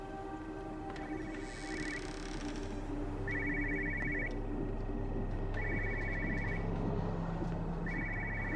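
A telephone rings inside the video game Everybody's Gone To Rapture, giving repeated electronic ring bursts at a steady rhythm over a quiet ambient background, with no talking.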